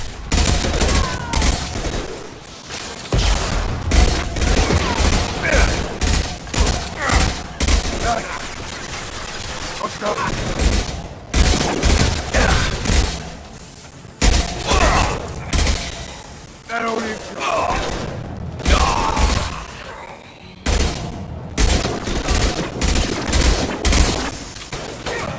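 Rapid bursts of rifle gunfire in the video game Mass Effect 2 Legendary Edition crackle loud and close through a firefight, with sustained volleys broken by brief pauses and battle noise, while voices are heard.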